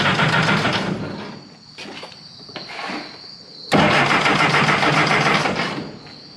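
A rebuilt Jeep Willys cranks loudly on its starter button with a rough, whirring engine noise. It fades briefly, then surges again in a second strong burst close to the microphone.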